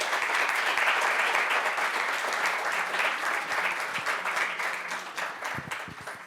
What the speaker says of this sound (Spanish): me gustaría dar la bienvenida a Esther y que le demos un cálido aplauso